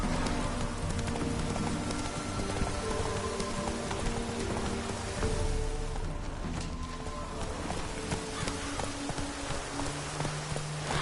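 Hoofbeats of Roach, a horse in The Witcher 3 game, galloping in a steady driving rhythm, mixed with dense game music and ambient noise, no talk.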